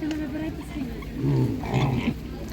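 Pigs at a livestock market in a Ukrainian village, where piglets are sold, grunting and snorting close by in a steady run of low calls over a busy background, with someone talking alongside them.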